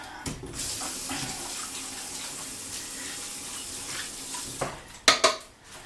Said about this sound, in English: So bear with me while I wash this one.